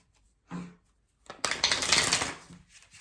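Tarot cards being shuffled, a short soft riffle followed after a pause by a longer, louder burst of papery flicking and slapping, heard close and alone.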